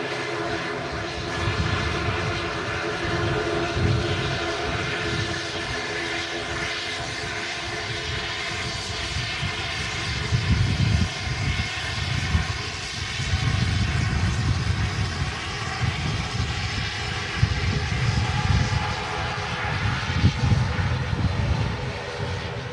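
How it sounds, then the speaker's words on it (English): An ATR turboprop at windy Manchester Airport gives a steady propeller drone with a rumbling low pulse, fairly distant and continuous throughout. "Let's have a listen to this ATR though"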